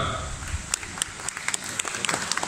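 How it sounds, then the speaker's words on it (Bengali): An audience gives thin, scattered applause, with individual claps standing out unevenly rather than blending into a full ovation. "তালিটা মোটেই জুৎসই হলো না,"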